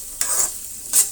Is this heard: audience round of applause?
no